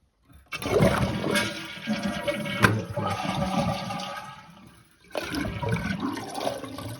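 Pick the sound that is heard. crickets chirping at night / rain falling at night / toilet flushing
toilet flushing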